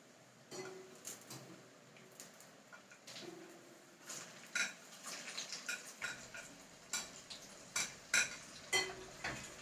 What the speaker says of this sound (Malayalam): നമുക്ക് ഇതിലേക്ക് മുന്തിരിയും കൂടി ഇട്ടിട്ട് വറുത്ത് കൊടുക്കാം